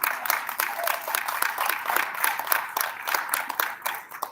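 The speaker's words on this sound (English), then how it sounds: "a big applause to all of you." Audience applause at a peace and healing plenary session, a steady wash of many hands clapping with a few louder individual claps, moderately close and continuous, with some voices faintly mixed in.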